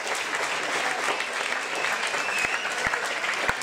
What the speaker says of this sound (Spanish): me gustaría que darle un aplauso porque creo que se lo merece